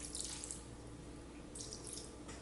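Fresh Mexican lemon juice is drizzled over raw shrimp for green aguachile, giving a close, continuous liquid trickle and splatter with light drips throughout.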